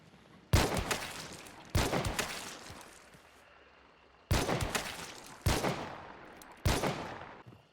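Five loud, sharp gunshots from a new scoped rifle in Hunt: Showdown, each crack ringing out with a decaying tail, spaced unevenly by one to two seconds.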